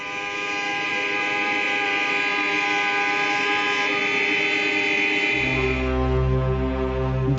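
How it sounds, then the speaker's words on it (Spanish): Car horns honk together in protest on a Berlin street, a dense sustained blare of overlapping tones that holds steady, then deepens as a lower horn joins near the end, with no talking. "Después protestan a bocinazos."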